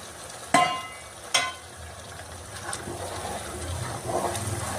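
Hot water is poured into semolina roasting in a pan for rava kesari, with two sharp splashing bursts early on, then a softer bubbling sizzle that rises again toward the end; no one speaks.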